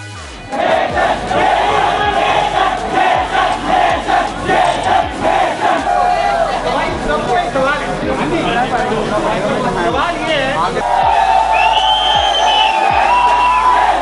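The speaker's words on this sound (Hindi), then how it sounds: "देखो भीड़।" A large, dense crowd at a YouTuber fan meetup fills the space with loud, continuous chatter, shouts and cheering close around, steady for the whole stretch with voices rising over one another.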